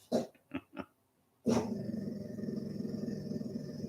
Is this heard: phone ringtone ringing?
no